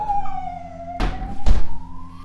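A police or ambulance siren wails outside a home, its tone gliding steadily, while two sharp thumps land close by over the drone.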